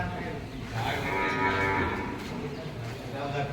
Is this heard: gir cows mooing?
yes